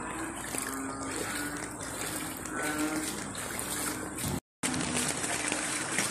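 Floodwater flows through a flooded neighbourhood street, a continuous broad rushing and trickling wash with a brief dropout near the end, and faint voices in the background.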